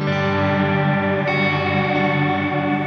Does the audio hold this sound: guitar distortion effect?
yes